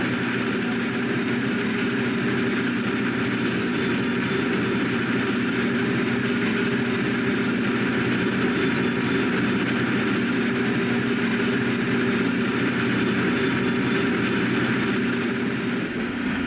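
A New Jersey Transit diesel train runs steadily, its engine a continuous loud drone with a constant low hum and rumble holding throughout.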